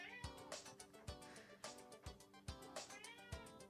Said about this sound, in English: Oh, the cat is here.